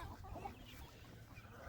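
Farm chickens clucking softly at a low level, with a few brief bird calls rising over a steady background of barnyard noise.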